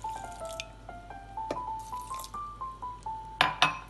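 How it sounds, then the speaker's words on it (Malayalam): Water pours from a glass into a mixer jar holding mulberries, with light splashing and bubbly drips whose tone rises as the jar fills, close and fairly quiet. "1/2 ഗ്ലാസ് വെള്ളം കൂടി ചേർത്തിട്ട്"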